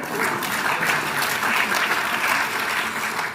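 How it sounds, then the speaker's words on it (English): Sustained applause fills the hall at the 2026 Victoria Australian of the Year Awards ceremony, a dense, steady wash of many hands clapping at even loudness throughout, with no individual voices standing out. "Oh, you can clap it"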